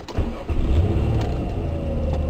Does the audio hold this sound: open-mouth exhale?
no